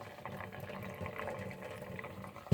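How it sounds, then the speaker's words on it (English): Slow stream of water poured onto very dry snake plant soil in a pot, draining down into a sink; a steady, soft trickling and gurgling wash runs continuously at moderate closeness, with no talking. "I'm pouring water slowly, and it is draining down to the sink"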